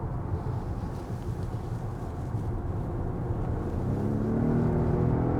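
A Volvo S90 Recharge with 455 hp accelerating, a smooth whirring engine tone that builds steadily and grows louder toward the end as it climbs through the gears.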